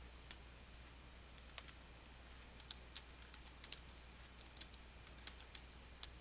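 Scattered sharp clicks from a computer mouse and keyboard while working in Microsoft Word, a quiet, irregular run of light taps close by, bunching together near the middle and again near the end.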